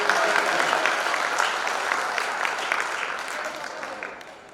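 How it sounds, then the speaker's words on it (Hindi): A crowd at a poetry gathering claps with both hands raised, dense applause that starts loud and gradually tapers off toward the end. "एक बार सारे लोग दोनों हाथ में ऊपर तालियां बजा के"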